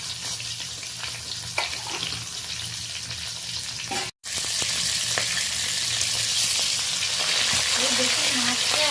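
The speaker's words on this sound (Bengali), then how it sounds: "আমি মাছগুলো ভেজে নেওয়ার জন্য তুলে দিচ্ছি।" Steady, loud sizzling of small Japanese puti fish frying in hot oil in a pan, continuous throughout with a brief cut, occasional crackles and faint stirring.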